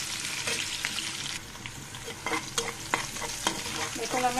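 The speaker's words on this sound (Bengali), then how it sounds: "হালকা করে ভেজে নেব, বেশি ভাজি করবো না।" Onion and garlic fry lightly in a pan for an amra recipe, a steady sizzling hiss broken by several sharp spatula taps and scrapes, close and clear with no voices.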